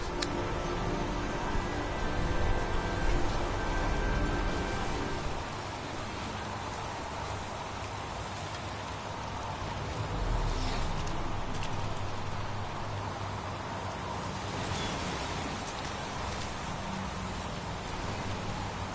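Steady rain in a city scene of the video game Heavy Rain, a dense, even hiss with scattered drips, continuous and moderately loud throughout.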